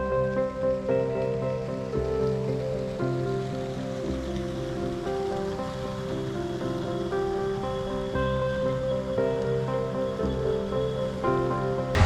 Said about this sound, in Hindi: बारिश घनघोर जारी है